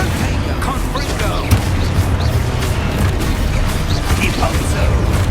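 Confringo fire spells explode in Hogwarts Legacy, a dense, loud stream of booms and crackling bursts in a nonstop magical duel with no pause in the noise.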